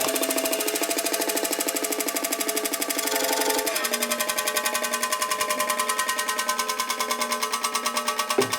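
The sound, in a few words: grinding a 1950 Panhead rocker arm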